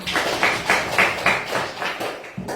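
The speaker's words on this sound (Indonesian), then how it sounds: "Beri tepuk tangan untuk Susan" A small classroom group claps for a student in a rhythmic, patterned way, with evenly spaced bursts of hands striking together in unison, close and fairly loud, ending with one last clap.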